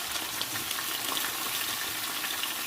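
Tomato pieces frying in oil over medium heat for tomato pickle, a steady soft sizzle that holds evenly throughout without pauses or talk.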